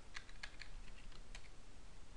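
Keys click softly on a computer keyboard while an activation key and CAPTCHA are entered, a faint, irregular patter of taps over low background hiss.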